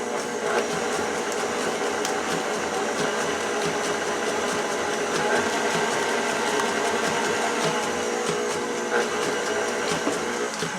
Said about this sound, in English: Bear with the sound of the mixer.